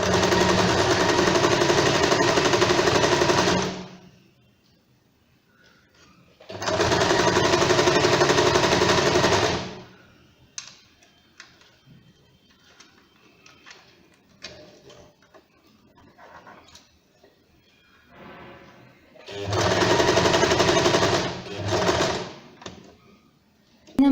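A sewing machine stitches a zipper onto fur fabric in three loud, steady whirring bursts of several seconds each, with quieter handling clicks and rustles in the pauses.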